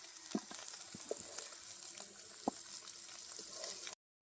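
Masala sizzles and fries in a pan for Kerala-style fish mappas, a soft, steady crackle with occasional spatters and stirring taps that runs quietly and then stops abruptly.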